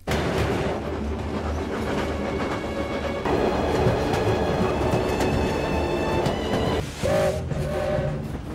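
A freight train rolling along in Siberia, loud continuous rumble and metallic screeching tones with clattering wheels, the roar surging a little louder partway through and briefly dipping near the end.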